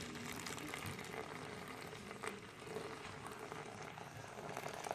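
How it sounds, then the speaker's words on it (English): Hot distilled water, heated to almost boiling, is poured onto Castile Plus liquid soap paste, making a steady, close rushing splash that continues without a break. "So now I'm going to pour that in here with my paste."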